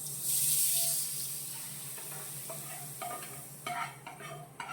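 Tempering with asafoetida stirred into mango and amaranth-leaf dal: an opening hiss fades into wet stirring, with spoon scrapes and clinks growing louder toward the end, close up.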